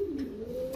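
Long-face pigeons cooing up close, a steady low murmuring coo running through the whole short moment without a break.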